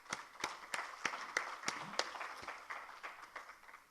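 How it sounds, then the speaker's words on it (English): Sparse, evenly spaced claps ring out at a climate summit awards ceremony, sharp individual hand claps about three per second, faint and distant in a quiet hall rather than a full wave of applause. "Let us give him a huge round of applause."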